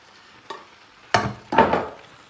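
Alfredo sauce stirred in a pan during a student cooking competition: three scraping, knocking strokes of a utensil against the pan, the last two louder and close, with a faint sizzle beneath.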